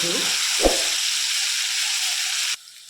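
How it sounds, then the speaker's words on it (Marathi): Ground green chili paste fries in a pan with a loud, steady, close sizzle and one brief clatter early on, until the sizzle drops off sharply near the end. "यामध्ये आपण जी वाटून घेतलेली मिरची मिरची टाकू आणि याला परतून घेऊ"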